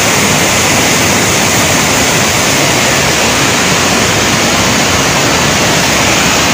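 Loud, steady broadband rush of a river running beside the washed-out Dikchu–Singtam mountain highway, a continuous roar of churning water close by with no talk.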